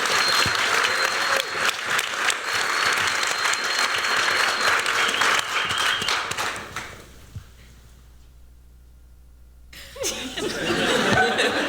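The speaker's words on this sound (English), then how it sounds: "Round of applause, please." Sustained applause from a conference audience at a design event, loud and continuous for about six seconds with some chuckles, fading to near silence, then clapping rises again briefly at the end.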